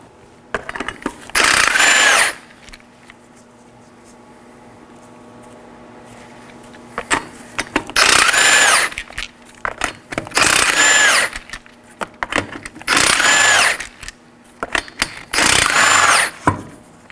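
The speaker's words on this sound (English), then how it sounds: "You're going to want to use a 21mm socket to remove these 5 21mm lug nuts." A power tool with a 21mm socket removes lug nuts from a 2013-2019 Nissan Sentra wheel, giving five loud whirring bursts of about a second each, separated by quieter gaps with soft handling noises.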